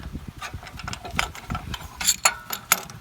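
The screw of an OEM brake pad spreader tool is turned to push a caliper's pads apart, producing close, quick metallic clicks and scraping mechanical ticks in a short irregular series.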